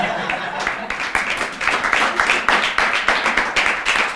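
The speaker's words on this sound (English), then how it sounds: "thanks for that round of applause" A studio audience at a comedy talk show claps in a short round of applause, fairly loud and close, with individual claps audible in a ragged rhythm and a voice briefly over it.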